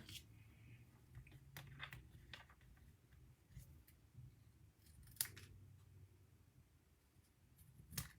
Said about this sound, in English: And I'll take my paper snips.